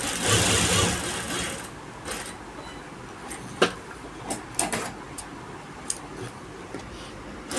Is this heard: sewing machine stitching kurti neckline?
yes